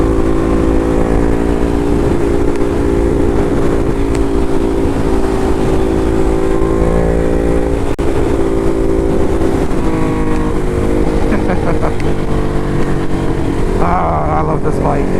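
Hypermotard 698 Mono motorcycle riding along, its steady engine drone and wind rumble continuous throughout, with a rider talking over it.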